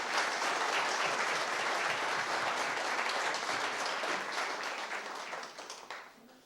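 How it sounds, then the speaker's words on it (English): Dense, sustained applause from an audience at the 2016 Order of Thompson community foundation awards ceremony, loud and steady before tapering off gradually toward the end. "Please give them a round of applause."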